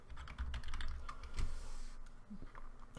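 Typing on a computer keyboard to rename a file: a quick run of close, crisp key taps in an uneven rhythm over a low background hum, with no talking.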